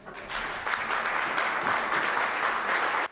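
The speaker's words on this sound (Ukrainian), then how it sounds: "Першу в парламенті Великої Британії зустрічали оплесками" Members of the UK Parliament applaud Ukraine's first lady, a dense, steady round of clapping from a large room that runs throughout and stops abruptly.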